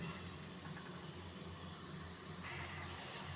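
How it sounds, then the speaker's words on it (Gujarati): Urad dal vadas frying in oil on low heat give a steady, even hiss and soft bubbling, constant throughout at low level with no talking. "ગોલ્ડન બ્રાઉન કલરના થાય ત્યાં સુધી આપણે તેને તેલમાં ચડવા દઈશું"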